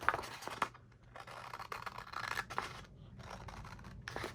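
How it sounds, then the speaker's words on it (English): Medium-sized scissors cutting paper for envelopes and tags in a paper-craft session, a series of close, crisp snipping and scraping cuts in irregular bursts with brief pauses between them. "These are more like medium scissors compared to theirs."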